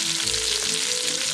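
Sausage and cabbage sizzle loudly in a hot pan, a dense, continuous crackle with a brief low scrape as the food is stirred.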